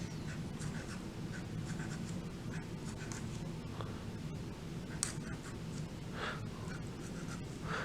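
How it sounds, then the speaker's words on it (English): Base-ten blocks being drawn for a two-digit subtraction lesson, a continuous scratchy pen-on-paper scrawl with short repeated strokes and taps, close and fairly quiet. "So I draw out my 10s."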